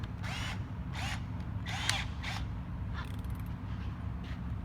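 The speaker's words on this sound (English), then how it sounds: "9mm drill bit" A power drill with a 9mm bit whines in several short bursts, biting into double-skinned metal on a Pajero during a suspension install, with a steady low hum underneath throughout.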